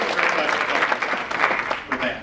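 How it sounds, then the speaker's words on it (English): Town hall audience giving a round of applause, moderate clapping over a couple of seconds with a voice speaking through it. "And we got to give him a big applause."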